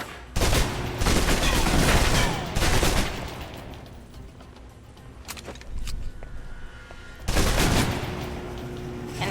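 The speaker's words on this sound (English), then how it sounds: "Now for your submachine guns." Submachine gun fire in the video game Alpha Protocol: loud, rapid bursts at the start, around two to three seconds in, and again near the end, with quieter clatter and rustling between them.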